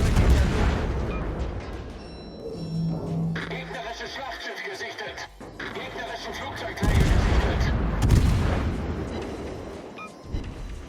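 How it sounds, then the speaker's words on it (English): Naval guns on the German cruiser Hindenburg fire in World of Warships, with deep booming salvos and rumbling blasts layered over the game's background noise, while a person talks throughout. "we're just gonna keep firing on the Nova right now"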